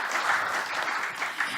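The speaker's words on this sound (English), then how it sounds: "Give yourself a big round of applause." Audience applause at a Saturday trading seminar, a steady mass of claps from a crowd, moderately loud and continuous for the whole stretch with no talk over it.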